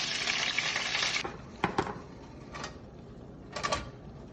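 Chicken browns in hot oil with allspice and onion for Jamaican brown stew chicken. A steady sizzle runs first, then gives way to a few sharp clinks and scrapes of stirring in the pan.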